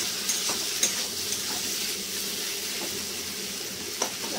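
Khichuri ingredients, potatoes and papaya among them, sizzle softly in a pot on low gas after being covered, with a steady frying hiss and a few faint scrapes of stirring, no voices.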